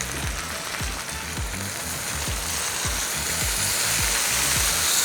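Light soy sauce hits a hot pan already holding ginger, garlic and chilies, giving a loud, steady hiss with a rapid crackling sizzle and soft rhythmic stirring scrapes underneath.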